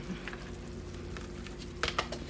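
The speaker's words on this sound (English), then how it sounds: "I'm just gonna add a little bit of butter, like a tablespoon of butter" A tablespoon of butter melts in a pan over medium heat while cornmeal with callaloo is being cooked, giving a soft, steady sizzle with a few brief louder crackles near the end, no talking.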